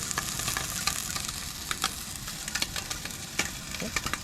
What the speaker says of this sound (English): Put the ham steak in this, got that sucker sizzling now.